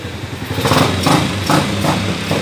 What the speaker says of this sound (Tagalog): Yan oh, laki ng makina. 4 cylinder.